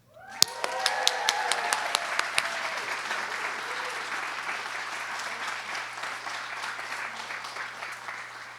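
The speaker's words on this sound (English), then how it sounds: "please a round of applause for Professor Murthy, who just earned tenure" At a humanities spring awards ceremony, an audience applauds an award presenter; a few sharp, close individual claps ring out first, then a steady wash of crowd clapping continues throughout.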